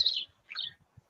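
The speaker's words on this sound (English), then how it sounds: "Just outside birds, not sure." Birds chirping and tweeting outdoors in the background, two short bright bursts of high calls a moment apart, fairly faint, with no talk over them.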